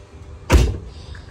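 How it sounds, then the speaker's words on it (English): A single solid thud of a vehicle door shutting, close by, with a short low rumble after it and no talking. "So I'm just going to close that door now."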